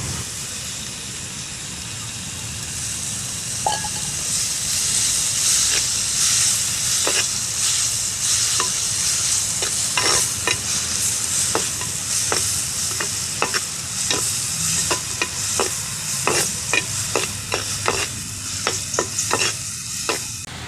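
Tomatoes stirred into a sizzling egg roast in a pan, with a steady loud frying hiss broken by repeated close scraping strokes of a spoon throughout.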